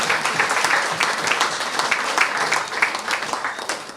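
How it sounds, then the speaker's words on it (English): A round of applause at a club reunion in Grenada honouring the oldest member, aged 94, with a roomful of people clapping steadily at moderate loudness, brisk individual claps audible within the crowd. "I think we should still give Chaz, as the oldest member, at 94, a round of applause"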